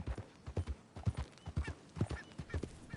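Horse hooves clip-clop at a steady walking rhythm in Red Dead Redemption 2, close and clear, with a soft whinny and no talk over them.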